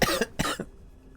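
A person coughs twice in quick succession, close and fairly loud, then quiet background hum.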